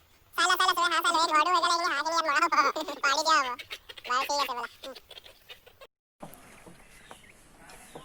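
Quail chicks chirp in rapid, repeated high peeps, loud and close for several seconds before thinning out, then quieter background sounds follow.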